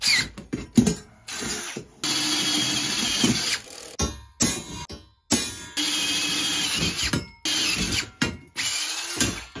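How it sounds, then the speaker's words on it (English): A power drill bores holes into a DIY solar panel ground mount in repeated loud bursts, revving and stopping with short pauses and brief silences between runs. "I forgot we've got to drill these holes right here first."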